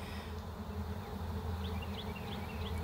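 A small wild honey bee swarm working on eight combs inside a box gives off a soft, steady, close buzzing hum, with a few individual bees droning past.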